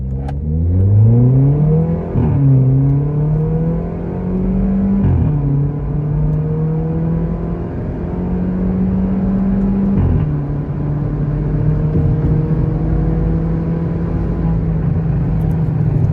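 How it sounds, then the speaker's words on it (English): A modified Volkswagen Polo GT TSI engine revs and holds a steady drone, with sharp pops and crackles from its add-on exhaust breaking in now and then. "the exhaust, it's an add-on for this engine, so you can hear the pops and cracks"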